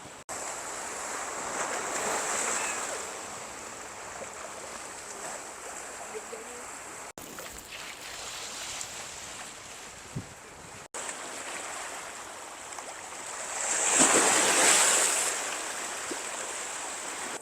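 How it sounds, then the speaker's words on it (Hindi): Sea waves wash onto a beach in Cyprus, a steady broadband surf hiss with a louder swell near the end, some wind noise against the microphone and no clear speech. "ये देखें पीछे सारा समंदर है।"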